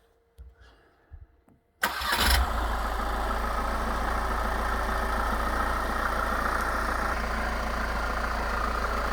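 A 2021 Volkswagen Transporter T6.1 engine cranks and catches with a sudden loud start, then settles into a steady, close, low idle hum that runs for about seven seconds.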